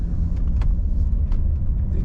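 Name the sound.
1989 Mercedes-Benz 560SEL driving on the open road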